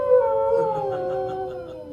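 Rover, a dog, lets out a single long, wavering howl close by, with the drawn-out tone sliding slowly downward and fading a little at the end.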